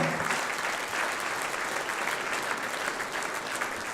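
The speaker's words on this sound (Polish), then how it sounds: "Duże brawa." A concert audience breaks into applause, a thick, continuous roar of clapping from a crowd that stays strong and steady for four seconds, with no voices standing out.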